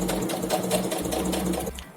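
A sewing machine runs steadily while stitching an elasticated-waist skirt, a close, continuous mechanical whir with a low hum that eases near the end.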